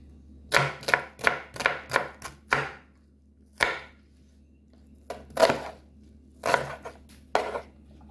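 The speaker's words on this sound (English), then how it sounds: "So first up we're going to just cut up our onions." Sharp knife strokes chop onions on a cutting board for a Jamaican curry turkey neck, a quick run of about eight close, crisp thuds followed by a few scattered single chops, with no talking.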